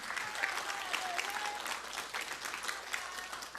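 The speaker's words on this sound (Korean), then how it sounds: "여러분 박수로 수상자 여러분께 축하의 마음을 전해주시기 바랍니다" An indoor audience at the 2022 Laboratory Safety Week opening ceremony claps for award winners, a sustained, even round of applause from many hands with no voices above it.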